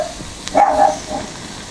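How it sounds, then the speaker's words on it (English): A neighbour's dog barks a few times outdoors, moderately loud and somewhat distant, amid a fire being lit with potassium permanganate. "Of course the neighbour dog. Getting nervous because of all the noise."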